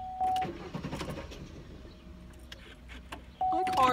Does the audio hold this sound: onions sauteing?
no